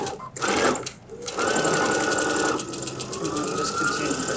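A sewing machine stitches across a zipper pouch with a steady, close, continuous motor whir and needle rhythm, pausing briefly near the start before running on evenly.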